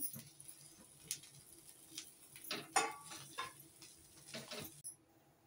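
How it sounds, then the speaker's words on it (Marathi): Onion and grated coconut are roasted together in a pan and stirred for a Malvani-style egg curry, giving soft sporadic scrapes and clinks of the spoon against the pan over a faint sizzle, close and quiet. "आता मी त्याच्यात खोबरं टाकून सगळं भाजून घेणार आहे एकत्र करून."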